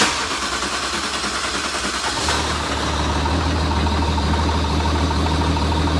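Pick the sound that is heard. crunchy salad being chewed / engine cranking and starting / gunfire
engine cranking and starting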